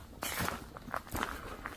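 Footsteps crunch through a forest at night, two or three close, fairly loud treads in quick succession with soft rustling between them, and no talking.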